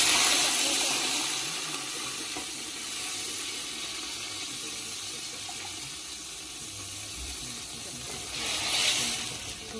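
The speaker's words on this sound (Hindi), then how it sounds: "तीन गिलास चावल है, इसमें पाँच गिलास पानी की ऐड करेंगे।" Water is poured steadily into a pot of rice, about five glasses for three glasses of rice over browned onions, giving a continuous splashing hiss that swells slightly near the end.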